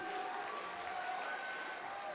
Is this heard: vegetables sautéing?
no